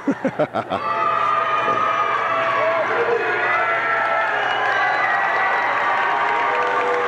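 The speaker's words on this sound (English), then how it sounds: "Well, the crowd's into it for sure." A high school girls basketball game crowd in a gym roars and cheers continuously and loudly, following a few rhythmic claps at the start.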